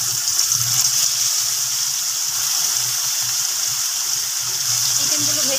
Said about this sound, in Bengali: এবার চিকেনগুলো একটু ভেজে নেওয়া হচ্ছে